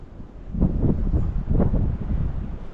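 Wind gusting across an exposed spot in a seaside town, a steady, loud rumbling roar with buffeting surges against the microphone throughout, no voices.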